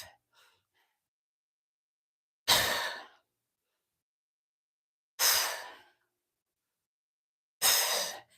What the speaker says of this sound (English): Exhale up.